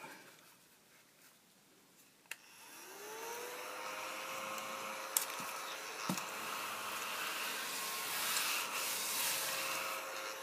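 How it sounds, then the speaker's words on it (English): A small handheld vacuum cleaner whirs up from near silence, its motor pitch rising into a steady high whine that grows louder and holds, with a few light knocks along the way. "I'm so glad I bought this little vacuum."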